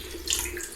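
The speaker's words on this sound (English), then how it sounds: "I'm doing the dishes now" Tap water runs into a kitchen sink during hand dish washing, a brief close splashing stream with a slight surge midway, no talking.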